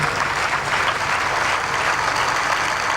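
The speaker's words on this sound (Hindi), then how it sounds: "ताली बजाना है तो ठीक से बजाइए" An audience claps steadily throughout at a Shiv Puran Katha religious discourse in Ujjain, a dense, continuous wash of many hands, fairly loud and without talk over it.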